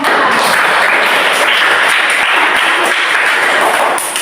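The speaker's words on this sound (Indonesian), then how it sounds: "Mari kita tepuk tangan untuk kelompok 4" A school class applauds a presenting student group, dense loud clapping from many hands held steadily for about four seconds before tapering slightly at the end.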